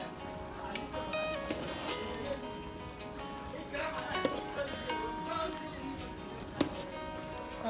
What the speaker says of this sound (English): When my soup is cooking, bubbling this way